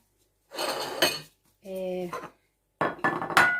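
Skincare ingredients are mixed with rice in a bowl, heard as three short, close bursts of scraping and clinking from a utensil against the dish, separated by brief silences.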